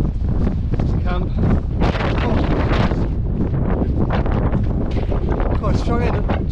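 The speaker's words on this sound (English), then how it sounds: "struggling to breathe sometimes because the wind's shooting down your throat" Strong wind blasts across the microphone in the mountains of Tasmania near Mount Vandyke, a loud, continuous buffeting roar with gusty surges throughout.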